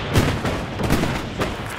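Rifle and artillery fire in the World War II shooter game Hell Let Loose, with several sharp booming shots at uneven intervals over a steady rumble, fairly close and loud, with no talk.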